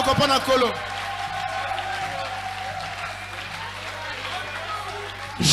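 A church congregation applauding, a steady wash of hand-clapping and crowd noise sustained throughout, with a voice briefly audible at the start and end.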